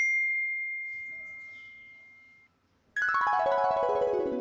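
A phone notification rings out as a single clear sustained electronic ding that slowly fades, then after a brief silence a brighter, richer chime tone sounds loudly and decays.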